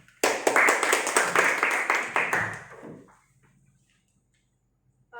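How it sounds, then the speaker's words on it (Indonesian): A fifth-grade classroom breaks into a short burst of brisk, rhythmic clapping, close and loud for about three seconds before it stops and quiet follows. "Tepuk tangan untuk kita semua."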